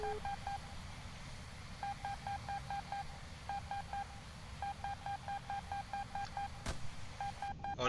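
Repeating electronic warning beeps from a Su-30SM jet's missile alert in War Thunder, steady paired tones in rapid bursts over a continuous cockpit engine drone, with a brief sharp crack near the end.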